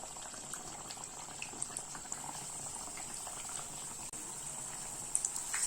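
Chilli bajji fry in hot oil with a steady soft sizzling and bubbling, close and fairly quiet, with a few small pops and clicks scattered through it.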